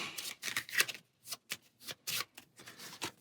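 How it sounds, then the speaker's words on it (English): Cards from the Star Wars: Outer Rim board game being shuffled by hand on a table, a series of quick riffling bursts separated by short pauses, close and crisp. "We'll go ahead and shuffle these back up."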